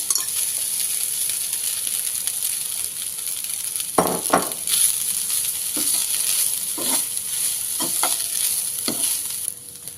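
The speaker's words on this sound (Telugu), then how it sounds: "బాయిల్ చేసి పెట్టుకున్నటువంటి రైస్ వేసుకొని మిక్స్ చేసుకోవాలి" Boiled rice being stirred into okra masala in a frying pan over steady sizzling. A cluster of spatula scrapes comes midway, then several more scattered strokes.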